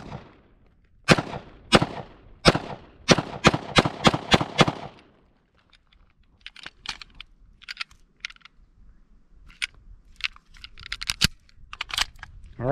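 A handgun fired outdoors in a quick series of about seven sharp, loud cracks at steady intervals, followed by a scatter of fainter clicks and handling noises. No one speaks.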